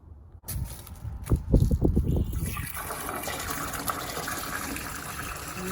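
Rainwater gushes into a container to moisten seed starter mix, a loud splashing fill that settles into a steady running stream, heard alone with no talk.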